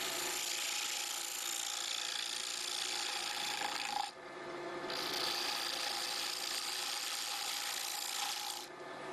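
A round spindle gouge cuts wood on a lathe, producing a continuous rasping shave that drops out briefly twice as the tool lifts, then resumes at steady volume.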